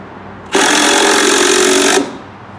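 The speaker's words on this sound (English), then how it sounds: "Quick tip for driving deck screws." A power driver sinks a deck screw into pergola timber on a deck, one loud, continuous buzzing whir lasting about a second and a half, close by, starting and stopping abruptly.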